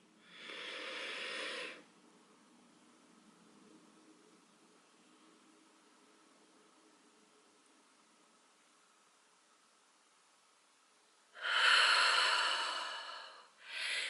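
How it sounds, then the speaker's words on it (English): Deep breaths sound close and soft: a slow inhale or exhale of roughly two seconds, a long quiet pause, then another fuller, airy breath around eleven to thirteen seconds, with no talking. "So inhale, exhale."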